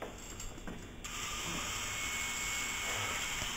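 A Dremel rotary tool carves a stone rune, its high-pitched whine starting partway in and then holding steady and fairly loud after some light handling clicks, with no talk.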